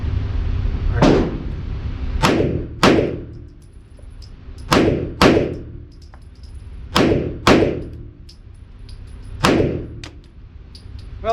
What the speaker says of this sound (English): fire the gun once I have an acceptable sight picture